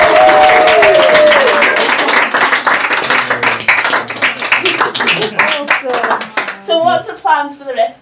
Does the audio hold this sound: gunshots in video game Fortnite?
no